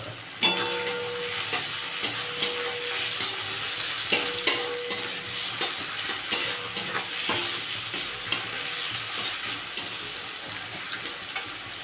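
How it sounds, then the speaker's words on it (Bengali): Sliced onions for beresta fry in hot oil in a wok, producing a steady, bright sizzle punctuated by regular clanks and scrapes of a stirring spoon against the metal. "এবার বেরেস্তাটা ভেজে নেব।"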